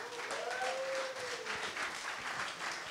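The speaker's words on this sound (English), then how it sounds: "big applause, guys." An audience at a startup demo day in Amsterdam claps steadily, a dense wash of applause filling the space, with a brief whistle rising over it near the start.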